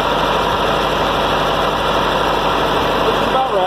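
A Ford 8N tractor engine runs at PTO speed, around 1500 RPM, a steady close idle-like drone and mechanical clatter holding even throughout, with a brief shift near the end.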